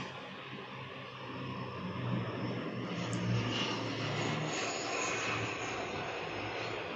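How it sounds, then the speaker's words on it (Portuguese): Airplane passing overhead: a steady, broad engine roar that swells slightly toward the middle and holds, moderately distant and alone without talk. "e o avião passando aqui"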